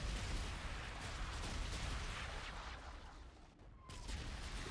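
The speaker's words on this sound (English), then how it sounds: "Enemy bombardment incoming" Enemy bombardment in Infinite Warfare, a faint rumbling barrage of muffled blasts and bursts that dips briefly and then resumes, heard without speech.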